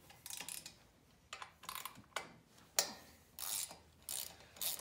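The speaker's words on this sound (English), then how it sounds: "I like breaking the breather bolts loose." Wrench work on the carburetor breather bolts of a Harley-Davidson Sportster with a CV carb, heard as a run of short, close mechanical ratcheting clicks in several separate bursts with brief pauses between them and no talk.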